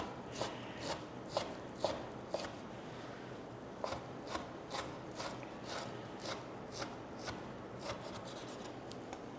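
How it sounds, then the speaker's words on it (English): A knife chops salami on a board in quick uneven strokes, a run of close, crisp taps over a quiet background. "I have a small packet of about 80 grams, I think, of salami. So I'm going to chop that up."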